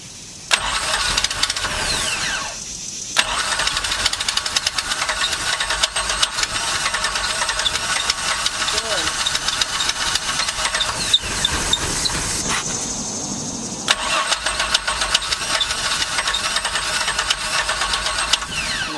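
A rebuilt truck V6 fitted in a Mercruiser ski boat cranks and fires, then runs loud and rough close by. It cuts out briefly twice and restarts.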